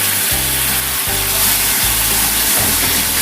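Ground tomato sautéing with onions in a pan for a quail egg roast, a steady bright sizzle and hiss with low rhythmic scraping from stirring throughout.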